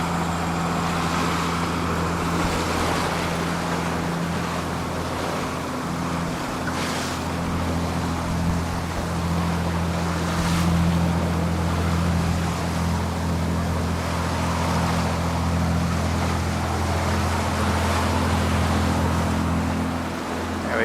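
A sailboat crossing the Strait of Georgia and tacking into lumpy waves, with loud steady wind and water rush, a continuous low engine drone and occasional splashes against the hull.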